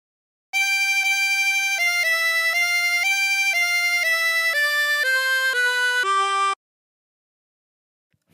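A harmonica plays a slow phrase of The Streets of Laredo alone: about ten clear, sustained reedy notes stepping mostly downward, followed by silence.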